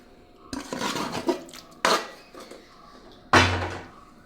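Chicken meat is tipped into a metal pot for a banana-leaf dum chicken biriyani, giving clanks, scrapes and a heavy thud of utensil against vessel in three close bursts, with no talk.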